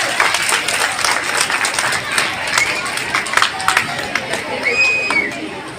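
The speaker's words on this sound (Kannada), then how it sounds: "ಜೋರಾಗಿ ಚಪ್ಪಾಳೆ ಬರಲಿ" A school audience at the Kalotsava 2025 event claps for a welcomed guest, with dense, sustained applause filling the room and a murmur of voices mixed in.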